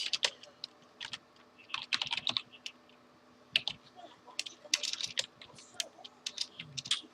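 A computer keyboard is typed on in irregular bursts of close, crisp key clicks with short pauses between them, over a faint steady hum.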